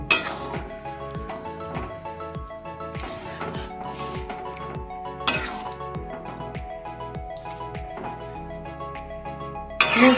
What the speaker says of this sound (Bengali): দিয়ে খুব ভালো করে আমি নাড়ব